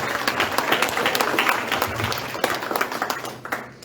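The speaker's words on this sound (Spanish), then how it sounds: "Denle un aplauso grande al Señor, mis hermanos." A church congregation claps steadily for a few seconds, a dense, close patter of many hands that thins slightly toward the end.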